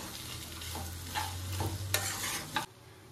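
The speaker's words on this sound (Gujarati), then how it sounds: "આ બધા જ મસાલાને વ્યવસ્થિત રીતે હલાવી લઈએ।" Spices with amchur powder and salt stirred in a pan for samosa filling: soft, quiet scraping strokes with a faint sizzle underneath, ending with a final scrape.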